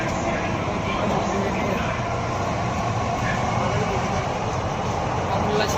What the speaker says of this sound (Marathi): ही जी मेट्रो आहे या ठिकाणी चालू झालेली आहे